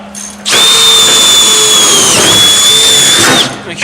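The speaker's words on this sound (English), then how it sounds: "Drill that hole." Power drill boring a hole through a body panel on a cheap bomber race car, a loud whining run of about three seconds close by, starting and stopping abruptly with no talk.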